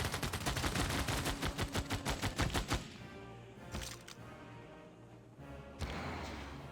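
Units open fire on a city in Civilization VI: a rapid burst of gunfire cracks repeatedly for nearly three seconds, followed by scattered thuds and a couple of later impacts over a low rumble.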